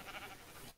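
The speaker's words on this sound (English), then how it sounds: "Follow me, sheep." A Minecraft sheep gives one short, close bleat that cuts off abruptly.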